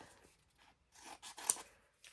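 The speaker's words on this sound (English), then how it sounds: "I'm going to cut this out." Scissors snip through a paper image in a few quiet, short cuts separated by pauses, close by with no talking.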